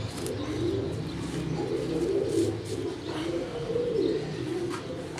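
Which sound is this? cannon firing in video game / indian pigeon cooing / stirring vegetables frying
indian pigeon cooing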